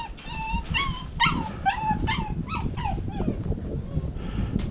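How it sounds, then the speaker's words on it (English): A dog whimpers and yips in a run of rising, whining cries outdoors in a yard by a shop, fairly close, over a steady low rumble of background noise. "There's my daughter's dog."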